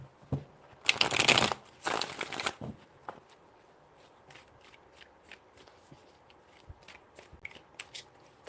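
Tarot cards riffle-shuffled close up in a quiet room, two crisp bursts of rapid flapping in the first few seconds, followed by soft scattered taps and card handling.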